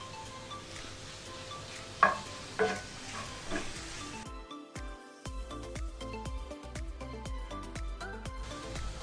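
Garlic and onion fry in a pan for a butter chicken masala, with a steady sizzle, scraping stirs and occasional clinks of a utensil against the pan, close and without talk.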